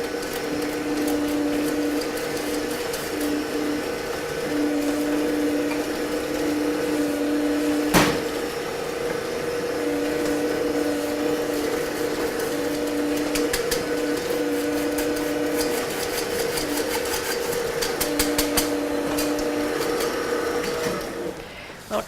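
An electric mixer creams cake batter for cranberry lemon loaves at medium speed, a steady whirring motor drone that runs throughout, with a brief clunk partway and light clatter near the end.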